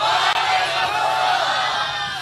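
A rally crowd at a political gathering for Bilawal Bhutto's party chants slogans, a dense, loud roar of many voices that runs unbroken throughout.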